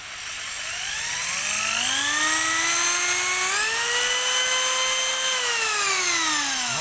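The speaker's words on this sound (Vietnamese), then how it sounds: "Bắt đầu mình bóp cò là nó xoay luôn á. Là cái đầu khoan là nó phải xoay ha." An electric drill spins up under trigger speed control, its whine climbing in pitch, holding steady, then rising again as the motor runs loud and close without pause.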